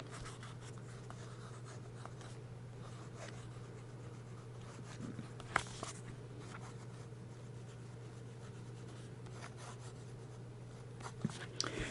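A Jinhao fountain pen with a wet steel nib scratches faintly across paper in soft, continuous strokes, very quiet over a low steady hum, with a few small taps; no one speaks.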